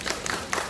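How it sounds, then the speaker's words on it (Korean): Brief burst of clapping from a talk-concert audience at a rehabilitation medicine lecture, a short scattered patter lasting under a second with no voices over it. "박수 한번 주세요"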